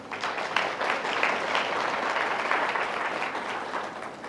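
An audience at a Thai hotel event claps for the staff in a steady round of applause, moderately loud and even from start to finish, with no talk over it.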